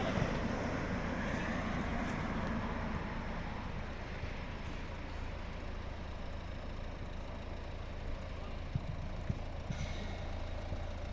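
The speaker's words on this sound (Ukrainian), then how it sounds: "заведена, рівно тихо працює" A 2012 Volvo V50 with a 1.6 D2 diesel engine idles in a low, even rumble that holds steady and quiet throughout, with faint wind-like hiss over it.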